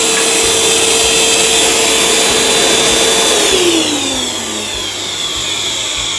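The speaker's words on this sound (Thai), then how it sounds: "จ่ายโหลดมอเตอร์สว่านนะครับ" A loud, steady whine of an electric drill motor running continuously on an off-grid hybrid inverter, its pitch dropping partway through as it slows under load.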